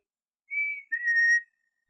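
A soft, sweet whistle imitating a bird's love song: two clear, sustained tones, the second a little lower and longer, heard close and alone in otherwise quiet surroundings.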